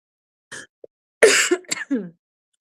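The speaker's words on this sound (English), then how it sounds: "I'm still trying to get rid of this cough, as you guys can tell." A few sharp, loud coughs in a quick burst, close by, with a brief throat sound before them and no talking.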